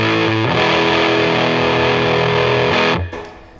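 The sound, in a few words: electric guitar through JHS overdrive pedal with push knob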